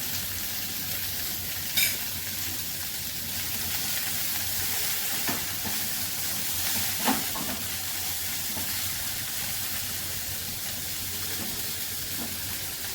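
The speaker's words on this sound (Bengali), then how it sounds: "এবার এটাকে একটু কষিয়ে নেব" Ground cumin, coriander and chilli powder with green chillies sauté in hot oil for a moong dal and cauliflower dish, a continuous crackling sizzle with a few sharp utensil knocks, no talking.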